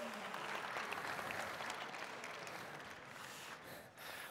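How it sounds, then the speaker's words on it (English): Sustained applause from an audience after a prize of a brand new Toyota is announced, dense and steady clapping filling the whole stretch with slight fading toward the end. "Let's give her a round of applause."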